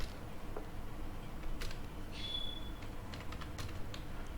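Keys tapped on a computer keyboard while filling in a résumé in MS Word, a quiet, irregular run of clicks with scattered keystrokes and short pauses, no talking.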